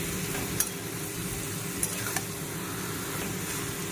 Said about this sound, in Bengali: পুরো মোচাটাকে দিয়ে দিয়েছি আর এটাকে ভালো করে ফ্রাই করে নিতে হবে